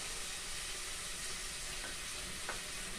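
Garlic fries in a pan with onions for a Nepali-style chicken curry, giving a soft, even sizzle with faint scraping as it is stirred, fairly quiet and continuous.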